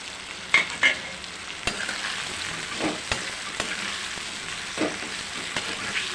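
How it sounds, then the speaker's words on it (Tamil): Radish, carrot and beans sautéing in hot oil for a vegetable sambar: a steady, close sizzle broken by sharp clinks and scrapes of a spoon stirring the pan, with no voices. "கொஞ்சம் நல்லா வதக்கணும் உள்ள முள்ளங்கி எண்ணெயில் கேரட்டு பீன்ஸ் போட்டுக்கலாம்"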